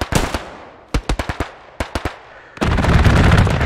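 Aircraft strafing gunfire in the World War II shooter Hell Let Loose: a few sharp, close shots, then two quick bursts of rapid cracks, then a heavy sustained roar of fire that fills the end.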